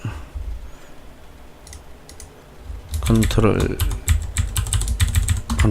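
Rapid clicking of a faulty computer keyboard, soft at first and then louder and busier, with a voice speaking briefly over the typing.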